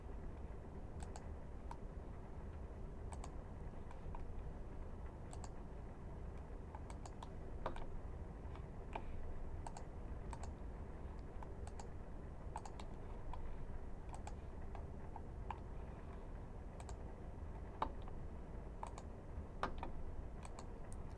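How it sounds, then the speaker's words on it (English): Computer mouse buttons clicking at a desk, a series of sharp, quiet, irregularly spaced clicks over a low steady room hum, with no voices. "I'm going to click on some that I can relate to"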